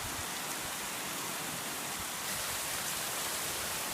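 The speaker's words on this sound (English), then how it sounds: "the rain is so hard and it sounds so amazing" Heavy rain falls hard at a seaside stay in North Tarawa, Kiribati, making a dense, steady hiss that stays even throughout with no voices.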